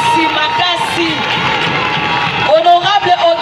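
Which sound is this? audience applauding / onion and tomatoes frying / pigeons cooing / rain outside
audience applauding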